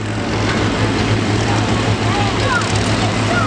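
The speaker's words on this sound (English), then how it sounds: "Very powerful tractor." A powerful pulling tractor roars at a tractor pull during a threshing show, a loud, steady low engine drone that holds throughout, with crowd noise mixed in.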